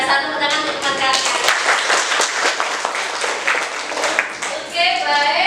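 A classroom of students applauds classmates with dense, close clapping, loud and continuous for several seconds before easing near the end, with voices mixed in.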